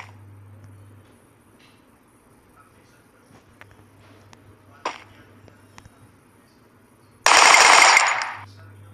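Gunfire in the video game Free Fire: a single loud rapid-fire burst lasting about a second near the end, after a long quiet stretch with only faint clicks and soft background noise.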